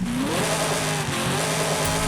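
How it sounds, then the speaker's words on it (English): A V8 car engine revs hard in a short, loud burst, its pitch rising and then holding steady, close up. "See how good the V8 can get."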